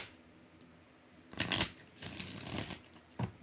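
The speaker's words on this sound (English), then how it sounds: "One more shuffle." A deck of tarot cards is shuffled up close in two quick riffling bursts followed by a brief tap, crisp papery flutters in a quiet room with no talk.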